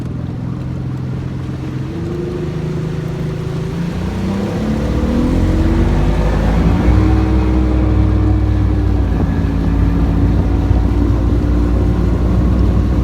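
An Evinrude E-TEC 150 HO outboard on a Glastron CVX16 boat running on a Michigan lake, a loud, steady engine drone that climbs in pitch partway through as it speeds up, with water and wind rush underneath.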